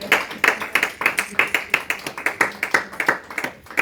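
Congregation clapping in rhythm in a church during an evangelical service, a steady run of rapid, loud group claps pulsing roughly twice a second, with faint voices mixed underneath.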